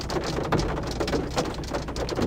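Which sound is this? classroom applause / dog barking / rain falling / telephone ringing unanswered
rain falling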